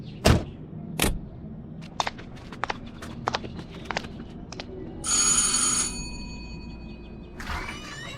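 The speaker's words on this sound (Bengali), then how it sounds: "কলিং বেল টিপতে চাকর এসে দরজা খুলে দিতেই" A calling bell at a house door gives one buzzing, tonal ring lasting about a second, set among scattered footsteps and knocks in a quiet room.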